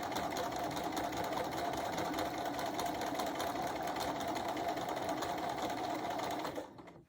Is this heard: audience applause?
no